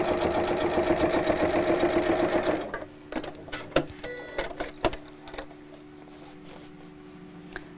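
A sewing machine stitches a tiny rolled hem, running with a rapid, steady mechanical whir for a few seconds, then stopping and leaving scattered clicks and soft handling noises.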